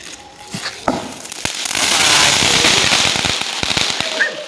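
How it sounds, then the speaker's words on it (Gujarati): Sky shot fireworks bursting outdoors at a night celebration, a dense run of sharp crackling pops and bangs that swells into a continuous loud fizzing crackle, with a few distinct nearby cracks toward the end. "સ્કાય શોટ ફોડે છે"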